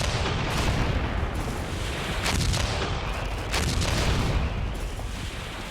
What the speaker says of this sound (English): the Russian offensive began with the usual artillery barrage